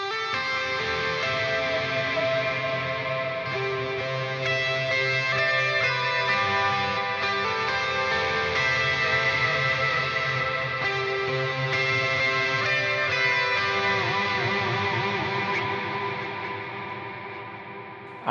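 Electric guitar runs through a Line 6 Helix galloping stereo delay with extra gain, so the overdriven notes ring and smear into trailing repeats. It plays continuously and fairly loud for the whole stretch, then fades slightly near the end.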